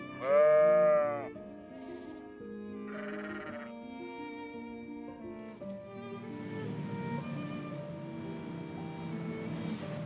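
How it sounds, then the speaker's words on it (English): A sheep on a desert farm in Saudi Arabia gives one loud, close bleat at the start, followed by quieter steady tonal sounds and soft background texture. "These sheep are grown on desert farms"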